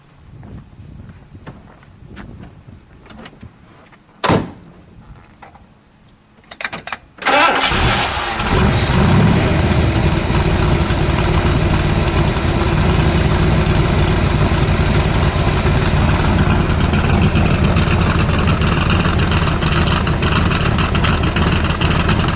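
A Factory Five 1965 Cobra replica's engine cranks after some quiet handling and clicks, then catches with a sudden loud roar and settles into a heavy, steady, rumbling idle that stays close and dominant to the end.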